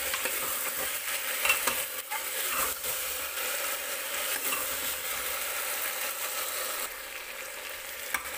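Mixed vegetables for pulao sizzling and frying in a pan with garlic-ginger paste and salt, a steady close crackle with scraping stirring strokes throughout, no voices.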